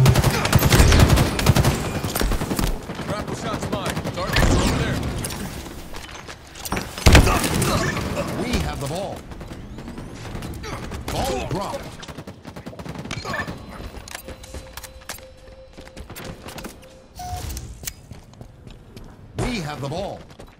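Rapid bursts of automatic gunfire and sharp impacts in Halo Infinite ranked Arena, loud and clustered early then thinning out, mixed with game announcer voice callouts and other effects.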